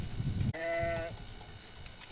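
A heavily pregnant sheep gives a single clear bleat lasting about half a second, close by, after a short burst of background noise and followed by quiet farmyard ambience.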